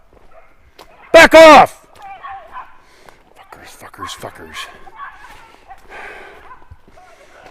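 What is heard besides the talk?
dogs fighting and barking on a trail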